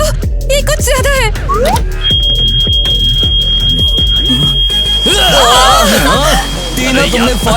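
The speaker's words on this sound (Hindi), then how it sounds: "तुमने फायर अलार्म को क्यों बजाया?" A school fire alarm rings with a steady high electronic tone that starts about two seconds in and runs on continuously, loud beneath excited voices and a chattering crowd of students.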